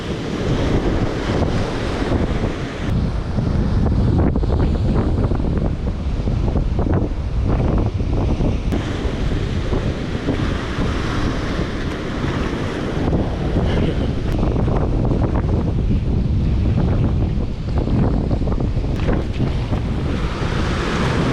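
A strong east wind on the coast buffets the microphone with constant loud roaring gusts, mixed with the wash of surf, filling the whole stretch without a break.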